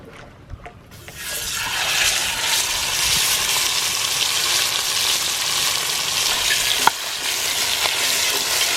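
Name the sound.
red snapper fish frying in a pan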